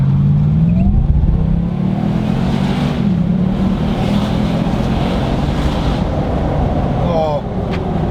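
Supercharged Nissan Y62 Patrol V8 revving on a dyno, with a loud, continuous engine roar and rising and falling pitch sweeps, close and dense, with people talking over it.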